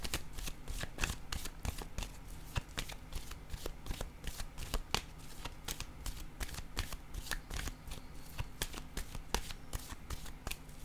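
Playing cards shuffled by hand for a new draw, a quick run of crisp riffling flicks repeating steadily for about ten seconds, close and quiet with no speech over it.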